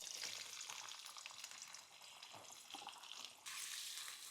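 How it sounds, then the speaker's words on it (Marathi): Onion frying in two ladles of oil in a pan, a steady bright crackling sizzle close by, dipping briefly mid-way then surging louder again. "परतून घ्यायचा कांदा."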